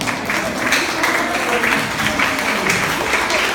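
A classroom of people applauds students, a dense, steady burst of clapping that fills the whole moment without any talking over it.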